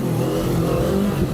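A motorcycle engine revs steadily and loudly up close, its throttle held and blipped with a continuous mid-pitched drone while the rider works the clutch with his left hand during a balancing demonstration.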